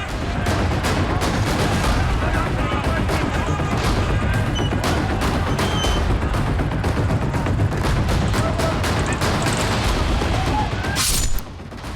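Dense, continuous gunfire crackles in rapid overlapping volleys during armed clashes in Khyber Pakhtunkhwa, with sharp bursts throughout and an abrupt drop at the end.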